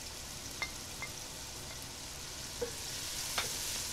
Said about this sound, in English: Lower the flame if it splutters too much, and then add the onions onto the pot.